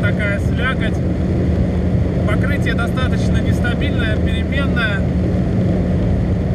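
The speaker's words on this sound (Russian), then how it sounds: "чувствуется вой коробки, чувствуется вой мотора." Inside a fast factory VAZ car at high speed on wet asphalt, a constant loud droning engine and gearbox whine with road roar fills the cabin, while someone talks over it.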